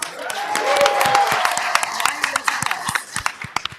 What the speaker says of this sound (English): Want to give him a round of applause.